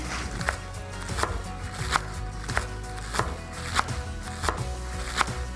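A knife roughly chops fresh spinach on a board in steady, evenly spaced thuds that carry on throughout, with no other sounds on top.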